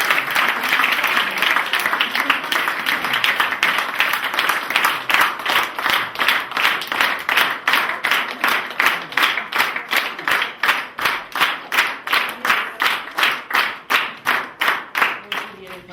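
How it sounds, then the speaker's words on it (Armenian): An audience applauds kindergarten children at a kindergarten event. Loud applause early on settles into a steady, rhythmic group clapping that continues to the end. "եկեք ծափահարենք մեր"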